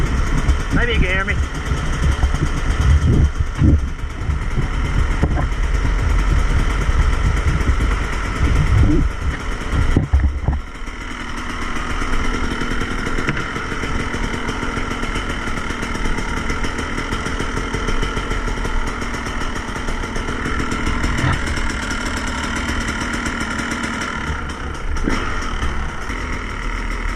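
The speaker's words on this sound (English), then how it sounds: "get the KTM warmed up" A KTM 250 EXC dirt bike warming up, its engine idling with a steady loud rumble throughout, under someone talking for much of the time.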